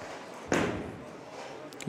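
A bowling ball crashes into the pins at a Brunswick Euro Challenge semifinal and leaves a flat 7, heard as a single loud thud and rattle of falling pins in a large hall, with commentary voices over it.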